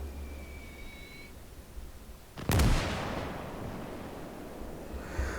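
Mortar fire in the World War II strategy game Call to Arms: Gates of Hell, one loud booming blast midway that rumbles and fades slowly over low battlefield ambience.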